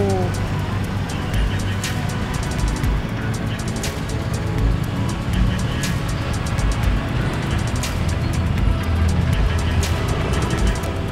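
Rush-hour traffic crawls along EDSA with motorcycles weaving through, a dense, continuous roar of engines close by that holds steady throughout with no clear breaks.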